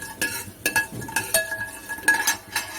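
Fenugreek seeds sautéing in a pan for South Indian sambar, with a soft sizzle under repeated clinks and scrapes of a metal spoon stirring against the pan.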